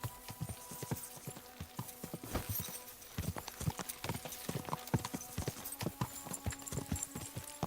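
Steady clip-clop of a horse's hooves on a hard path in the Warhorse video game, with a regular rhythm of close, crisp hoofbeats continuing throughout.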